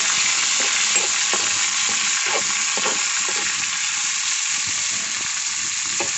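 Onions sautéing in a pan for a mushroom gravy, a loud steady sizzle with repeated scraping strokes of stirring, no voices.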